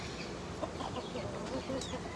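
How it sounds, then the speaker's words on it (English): Laced Cochin backyard chickens cluck softly in short, scattered calls against a steady outdoor background, with faint voices underneath. "We've got our backyard chickens going on here. These are our laced Cochins."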